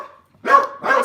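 Small dogs bark in two short bursts, the first after a faint lead-in and a brief pause, the second following closely, loud and near.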